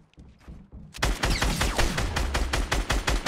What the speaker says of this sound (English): Thank you for shooting at me, dude.